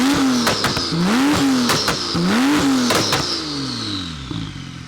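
A 1536 bhp Porsche 911 Turbo S with a 4.1-litre stroker engine pulls away, its engine revving hard through several rising and falling bursts, loud and close, then easing off as it moves away.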